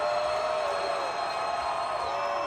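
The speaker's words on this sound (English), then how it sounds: "Here comes that Seattle crowd once again" Seattle crowd at a Legends Football League women's football game, Austin Acoustic vs Seattle Mist, roaring as a steady, dense wall of cheering and noise from the stands, loud and continuous without a break.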